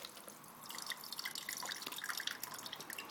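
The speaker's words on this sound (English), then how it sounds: "sieve this through into the Peppalyptus plant carrier" Tea dripping through a sieve into a Peppalyptus plant carrier in a home kitchen, a steady patter of small drips and trickles, fairly faint and close, with no voices.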